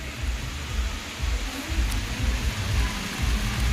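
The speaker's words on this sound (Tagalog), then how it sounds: "Medyo umaambon-ambon nga lang." Light drizzle falling outdoors on an island beach, a soft steady patter of fine rain with low rumbling background noise, no voices.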